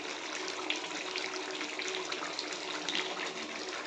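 Hot water poured into a pot of cooking meat curry, a continuous gushing, splashing stream at steady volume, close and alone.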